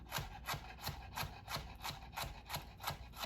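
A knife julienning a red pepper on a cutting board, making a steady run of about ten crisp, evenly spaced cuts close by with no talk.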